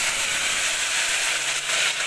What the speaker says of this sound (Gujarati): હવે એમાં આપણે જે પેપીયું ધોઈને રાખી એ એડ કરી અને થોડી વાર આપણે તેલમાં જ પકવી લઈશું